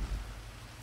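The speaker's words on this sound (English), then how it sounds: "it's pouring down with rain this time" Heavy pouring rain in the video game GTA V Online, a steady broad hiss with low rumbling underneath, fairly quiet and continuous.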